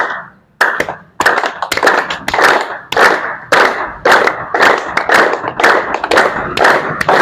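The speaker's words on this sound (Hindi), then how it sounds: "ये ताली देखिए कैसे बजाते हैं।" An audience in a hall clapping hands in a series of loud, sharp bursts of claps, with short pauses between them.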